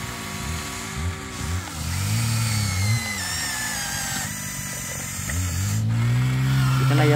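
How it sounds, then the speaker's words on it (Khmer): An excavator digging soil, its engine droning loudly and continuously with repeated rising and falling pitch swells as the machine works, close and steady throughout. "មកយកអេស្កាមកជីកដែរ"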